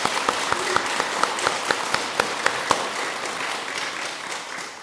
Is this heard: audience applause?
yes